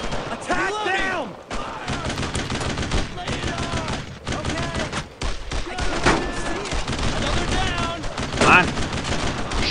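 Rapid gunfire rattles in Brothers In Arms: Road To Hill 30, with dense bursts of shots and impacts throughout while voices shout in the game.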